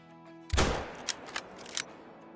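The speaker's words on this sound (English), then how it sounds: "We're going for a 300-yard shot with a 338." A .338 Magnum bolt-action rifle fires a single loud, booming shot in the hunting game Call of the Wild, aimed at a mule deer 300 yards away. A few fainter cracks and echoes follow the blast.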